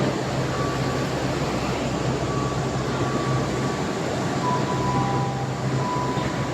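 A Delhi Metro train standing at a crowded platform at rush hour, giving a continuous low rumble and hum with faint tonal whines over it, steady and close, with no clear speech.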